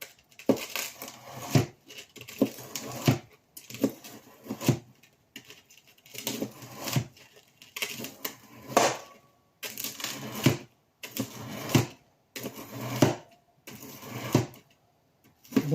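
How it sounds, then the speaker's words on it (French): Japanese-style kitchen knife chopping a block of frozen coalfish, giving repeated crisp cuts and cracks in an irregular rhythm, close and moderately quiet with no talking. "nous allons découper un carré de lieu noir surgelé"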